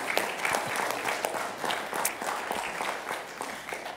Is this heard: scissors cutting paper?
no